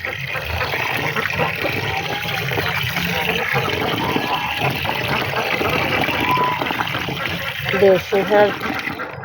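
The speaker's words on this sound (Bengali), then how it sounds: "আমার হাঁসগুলাকে কুড়া মেখে পানি দিয়ে আর একটু নরম করে দিতেছি।" Wet mixing and sloshing of water into a rice bran mash for duck feed, continuous and close, with a few louder splashy pulses near the end.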